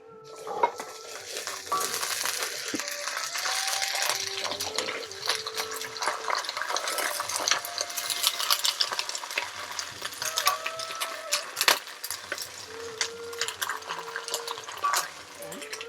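Vegetables browning and sizzling in a frying pan for Punjabi-style vegetable samosa filling, a steady close hiss with occasional stirring scrapes and clinks of a spoon against the pan throughout.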